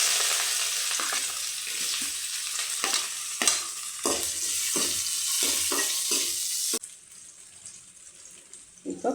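Ginger fries in a pan for a chutney, a bright steady sizzle with scraping stirs, loud and close; partway through, the hiss drops to a quieter simmer.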